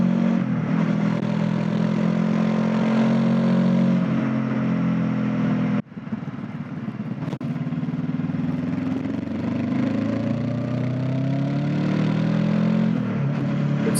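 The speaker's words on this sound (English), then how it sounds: "The exhaust note on this bike sounds like the bike is having fun." A Honda NX500 motorcycle carries a steady, mid-pitched engine drone while riding, the pitch rising and falling with throttle changes, briefly dipping near the middle as the gear shifts, then pulling again.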